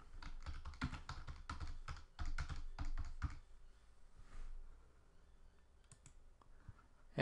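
Quick bursts of typing on a computer keyboard, close and crisp, keys clattering in rapid runs with short pauses before the clicks thin out into a few scattered taps.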